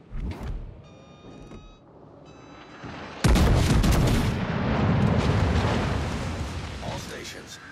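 A tank cannon in a World War II German armour video game fires with a sudden massive boom, and a long rolling rumble follows. Faint mechanical whines come before the shot, and a radio-style voice can be heard.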